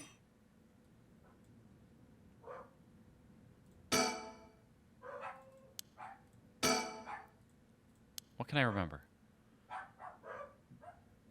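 Several dogs barking in the game PARANORMASIGHT, including a Shiba Inu, sharp separate yaps spaced irregularly with short clicks between, heard alongside a talking voice.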